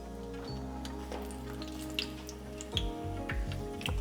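Dried whole red chillies, cumin seeds and mustard seeds sizzle in hot sesame oil, a soft continuous frying crackle with scattered small pops, close but quiet over a low steady hum, with no voices.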